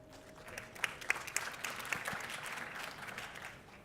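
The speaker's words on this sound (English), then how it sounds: "Please take the floor and give him an applause." Applause from an audience, a spread of clapping with a few sharper claps standing out, steady for several seconds before tapering off.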